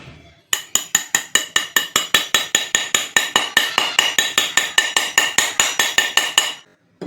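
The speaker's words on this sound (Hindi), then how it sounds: "अब ये नहीं जा रहा तो इसको हम लोग को हथौड़े से मारना पड़ेगा।" A hammer taps a ceiling fan part into place during a home fan service, striking about thirty times in an even, steady rhythm of sharp metallic clinks, close and loud, before stopping abruptly.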